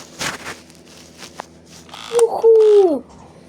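A cartoonish frog croak from the video game Astro's Playroom on PlayStation 5 sounds near the end, a sliding tonal call after a few scattered clicks and soft game noises.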